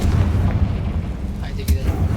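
A Confringo spell fired in the video game Hogwarts Legacy, a sustained rumbling blast heavy in the low end, with a sharper crack near the end.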